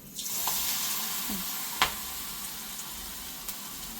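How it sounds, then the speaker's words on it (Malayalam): Onion vadas (ulli vada) dropped into hot oil, a steady loud sizzle and bubbling throughout with a few brief clinks and splashes, close up. "അപ്പോൾ ഇനി നമുക്കിതിലേക്ക് ഉള്ളിവട ഇടാം"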